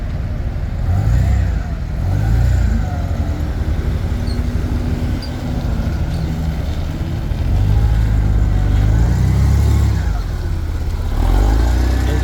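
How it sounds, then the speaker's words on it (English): A Hyster H90XLS 9K pneumatic-tire forklift runs its engine steadily while raising its short-wheelbase mast high, a loud continuous close-up drone with slight swells in revving and no talk. "this forklift will go 169 inches in the air"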